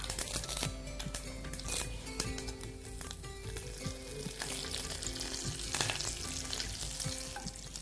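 Sesame seeds and curry leaves crackle and sizzle in hot frying oil alongside mustard seeds, a dense, continuous close-up spattering that holds steady throughout.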